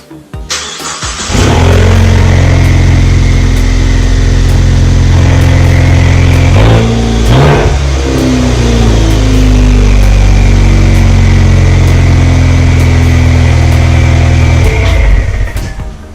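Ford Mustang EcoBoost with a muffler delete starting up, cranking then catching into a loud raspy idle, a brief blip of revs midway, then settling before shutting off; close and loud.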